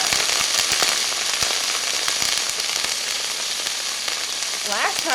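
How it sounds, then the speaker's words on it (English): Vegetables sautéing in a very hot pan, a loud steady crackling sizzle with sharp pops throughout, close up, with a brief voice at the end. "my pan is really hot, so let's saute these vegetables"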